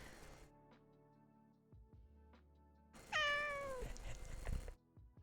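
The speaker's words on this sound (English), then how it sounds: "Sing chat a song, Mr. Kitten" A cat meows in one long, drawn-out call that falls in pitch, close and clear, after a quiet stretch with a few faint knocks and a low steady hum in the room.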